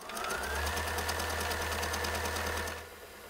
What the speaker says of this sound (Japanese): テレビの前にミシンを置いて